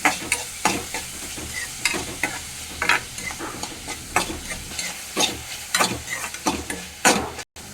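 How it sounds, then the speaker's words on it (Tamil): Tomato and green chili cook in a pan while a spoon stirs them repeatedly. Rhythmic scraping strokes cut through a soft continuous sizzle, close and fairly loud, with no talking. "ஒரு பச்சை மிளகாய் எல்லாத்தையும் சேர்த்து கிண்டி வேக விடணும்"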